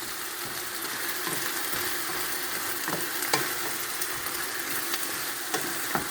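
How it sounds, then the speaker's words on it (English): Tomatoes, onions, garlic, ginger and spices fry for saag aloo, giving a steady, close, loud sizzle with occasional stirring clicks and scrapes throughout, and no talking. "it's just for you to fry your tomatoes, your onions, your garlic, your ginger, and the spices"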